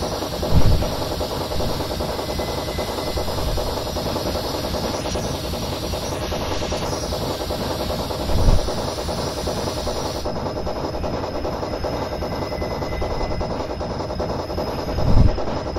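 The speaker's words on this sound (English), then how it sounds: "Very nice little train this is." A small steam locomotive chugs along at about 19 miles an hour, a loud, continuous hissing rumble with a fast regular beat and a few sharper thumps, heard close up with no talk.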